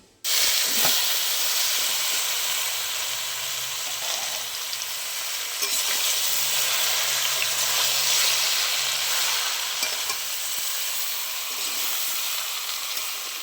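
Crushed chalta fruit hits hot fried spices in a pan, setting off a loud, steady hiss and sizzle that holds for the whole stretch, with faint stirring underneath.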